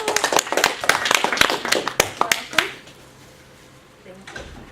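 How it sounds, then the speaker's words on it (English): A short burst of clapping from a small group, sharp and uneven, fading out after a few seconds into quiet room tone. "Give her a round of applause"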